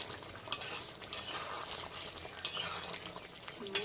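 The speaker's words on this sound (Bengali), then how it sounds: "মাংসটা আগে একটু কষা কষা রান্না করবো।" Poultry meat sautéing in a pot over a low, steady sizzle, with a few sharp clinks of a spoon scraping and stirring against the metal at irregular intervals.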